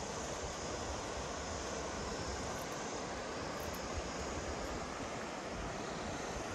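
A river below a hillside stay near Bir-Billing, fed straight from a waterfall, gives a continuous, even rushing roar throughout, with no voices.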